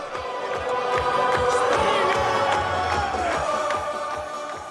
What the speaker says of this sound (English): chants erupt from across the crowd